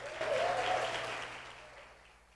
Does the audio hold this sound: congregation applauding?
yes